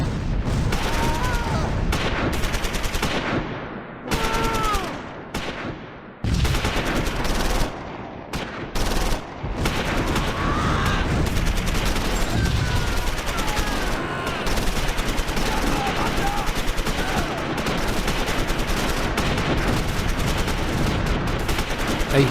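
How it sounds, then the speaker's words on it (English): Heavy gunfire in the Close Combat 4 Battle of the Bulge game at Echternacht, 1944: dense bursts of rifle and machine-gun fire with booms, loud and continuous across a long stretch, briefly dropping out a few times. "A hail of gunfire"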